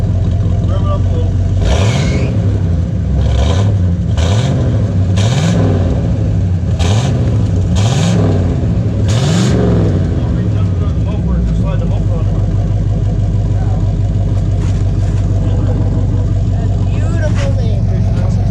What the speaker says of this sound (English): Rev it up a little.